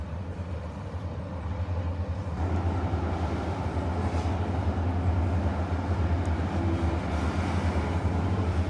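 A Paducah and Louisville Railway freight train, led by several GP38 locomotives and an SD70-type unit, rumbles past steadily with a deep, continuous engine drone and rolling wheel noise that grows slightly louder.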